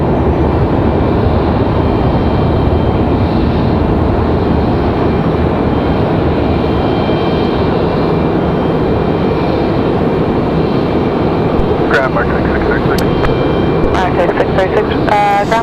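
A Martinair airliner at Raleigh-Durham airport produces a loud, steady broadband engine roar that fills the whole stretch, with a few faint tonal whines and clicks near the end.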